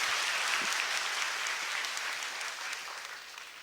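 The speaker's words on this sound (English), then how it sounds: "A round of applause." Dense, steady audience applause at a panel discussion, a loud wash of many hands clapping that tapers slightly toward the end.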